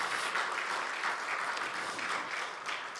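Warm applause from a church congregation at a Sunday service, honouring a deacon, steady clapping from many hands filling the room without pause.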